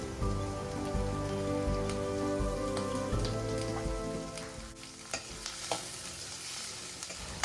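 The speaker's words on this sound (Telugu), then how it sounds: "కొంచెం చిటికెడు ఉప్పు వేసుకొని మంచిగా స్టిర్ చేసుకోండి ఆనియన్స్ని." Onions fry in a pan with a pinch of salt, a steady close sizzle running throughout while a utensil stirs them, adding scattered clicks and scrapes toward the end, with no talking.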